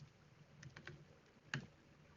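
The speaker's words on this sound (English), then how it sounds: "So we're just going to type npm init." Quiet typing on a computer keyboard at a desk, a short run of soft key clicks with one sharper tap near the end, faint and close with no talking.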